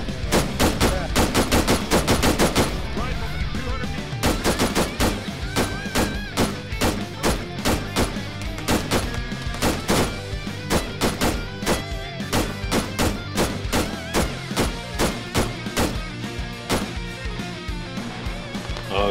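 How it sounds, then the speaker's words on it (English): A tank fires in the Arma 3 video game amid a long stretch of loud, rapid gunfire, with repeated sharp bursts and heavy thuds sounding close and intense throughout. "that's a tank, shooting at Zora"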